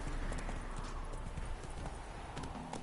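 Roach, the horse in The Witcher 3, trots along with a steady, rhythmic clip-clop of hooves, quiet and continuous, set against faint ambient background noise.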